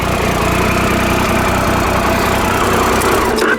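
A 2012 Triumph Explorer motorcycle engine idles up close, loud and steady, with an even low throb throughout.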